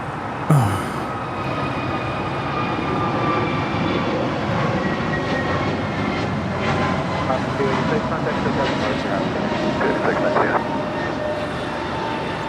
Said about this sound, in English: 286 departing to New York Liberty on an A321neo in the Mortalev livery